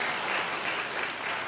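Audience applause at a church sermon, a brief dense burst of clapping from a crowd, steady and fairly loud.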